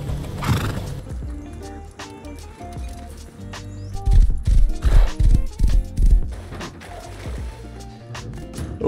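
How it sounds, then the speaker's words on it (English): A horse whinnies loudly in the video game Rust, followed by a steady run of clip-clopping hooves in a busy game soundscape with music. "Traded a Tommy for a horse."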